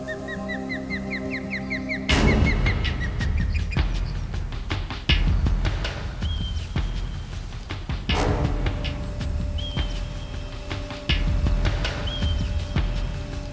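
Short, high marmot alarm whistles ring out a few times against a noisy outdoor background with thumps and rustling, sharp and carrying from a middle distance.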